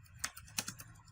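Several quick keystrokes on a computer keyboard while typing a heading in HTML code, close and fairly quiet, with irregular clicks spread over about a second and no talking.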